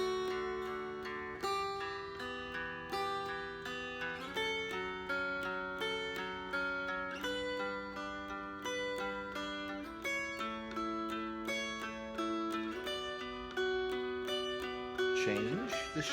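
Mountain dulcimer strumming a diminished chord shape across bass, middle and melody strings, a steady run of bright, ringing chords with sustained drone-like overtones, played close and alone.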